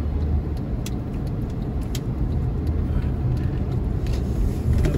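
Busy city street traffic in Brooklyn and Queens, New York City: a steady, loud low rumble of passing cars and buses that continues without a break, with no voices.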